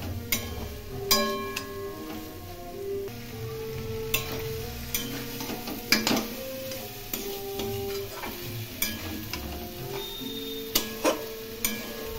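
Pointed gourd and prawns sizzle in a pan with chili powder and a bay leaf, stirred steadily with scattered clinks and scrapes of a utensil against the pan, close and fairly quiet.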